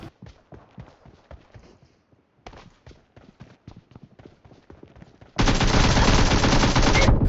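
Automatic fire from an AKM rifle in PUBG Mobile, a fast string of sharp cracks that turns into a loud, sustained roar of continuous shooting toward the end.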